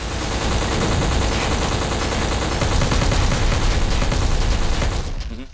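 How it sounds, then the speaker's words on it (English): Intense video-game gunfire roars without pause, with overlapping machine-gun bursts and heavy volleys forming a loud, dense barrage that cuts off abruptly at the end. "the sound of all the different guns, it just sounds so good and right"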